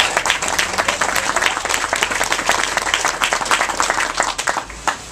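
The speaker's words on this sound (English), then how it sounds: "our senator, who I believe deserves another big round of applause for her leadership." Audience applause for a senator at an outdoor transportation loan press event in Los Angeles, dense sustained clapping from a sizeable crowd that stays loud throughout and thins slightly near the end.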